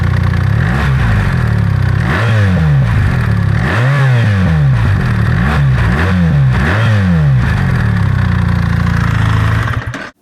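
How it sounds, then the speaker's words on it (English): A BMW R1300GS boxer-twin motorcycle engine drones loudly and close, with repeated rev swells rising and falling in a steady rhythm before cutting off at the end. "this is much smoother and almost has like a droning sound"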